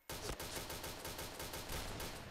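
Rapid automatic gunfire in the Point Blank shooter game, a quick string of evenly spaced shots firing close and loud for about two seconds, with no talk.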